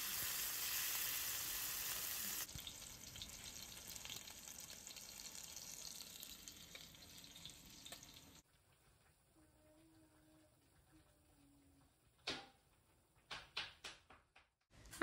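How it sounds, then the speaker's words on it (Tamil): Anchovies sizzle steadily in hot oil in a home kitchen, loud at first and then quieter, with a few clinks and handling noises near the end. "அதே மாதிரி மீதி இருக்கிற மீனையும் நம்ம பொரிச்சு எடுத்துடலாம்."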